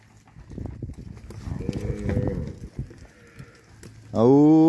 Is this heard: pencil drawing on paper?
no